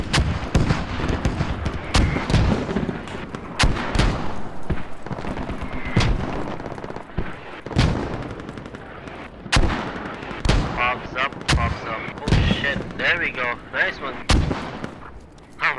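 Rapid gunfire mixed with heavy high-explosive blasts fills a Squad video game firefight against sandbagged emplacements, sharp cracks and booms repeating throughout at close range with no break.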